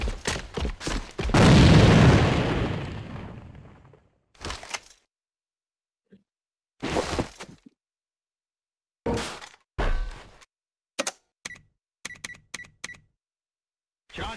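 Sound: grenade explosion in the video game A.V.A

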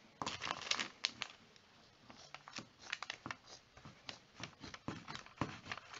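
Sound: scissors cutting fabric for a face mask

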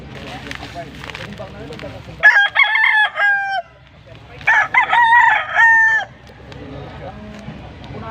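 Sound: young rooster (stag) crowing at chicken market

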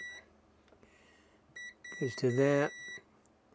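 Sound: multimeter continuity test beeping on Commodore 64 circuit board

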